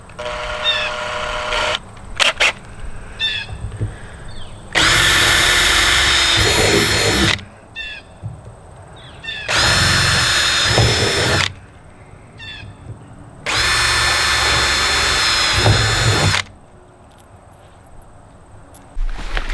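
A power drill whirs loudly in three sustained bursts of a few seconds each, drilling holes in a bait barrel with a crooked bit, separated by quieter pauses with small clicks and handling noises.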